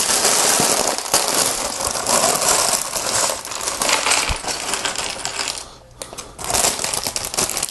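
Small plastic Lego pieces from a Batcave building set pour out of a bag in a dense, continuous clatter and rattle, thinning briefly near the end before a final burst, with no voices.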